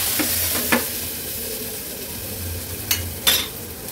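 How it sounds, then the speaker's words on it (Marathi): A soft, steady sizzle in a pan with a few sharp scraping clinks of a spoon stirring, as thick cooked dal hits the hot oil tempering. "आता ही शिजवलेली डाळ आहे ती फोडणीला घालूया"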